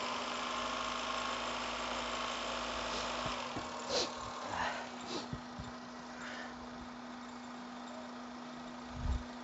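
A Honda Jazz engine idles with a constant hum and vibration while the car suffers from overheating, with a few faint knocks and thumps, steady and close throughout.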